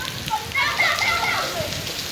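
Rain falling steadily outside during a heavy storm, a continuous close patter and wash that rises slightly midway, with voices faintly mixed in.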